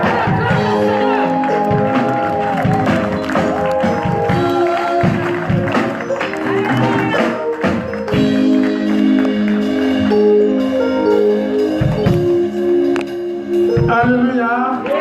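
A church congregation cheering and applauding for the Lord at a French-language service, a loud continuous crowd roar with clapping, shouts and a leader's amplified voice over music throughout.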